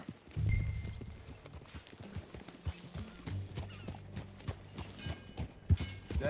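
Horse hooves in the video game Red Dead Redemption 2, an uneven run of clip-clop hoof thuds at walking pace, fairly close and moderate in level, with soft rumbles between the steps.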